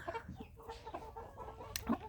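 Faverolles roosters and hens clucking softly in a coop, a few short low calls and murmurs scattered over a quiet background, fairly close but faint.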